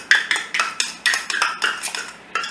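A spoon scraping and clinking against a bowl while blending pectin into sugar, quick repeated strokes at a steady rhythm, loud and close with no talk.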